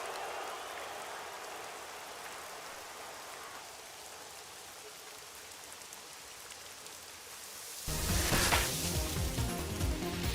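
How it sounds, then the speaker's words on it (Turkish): Steady rain falls in a football video game match, an even hiss of drops that swells louder and denser near the end. "Ah yağmur yağıyor"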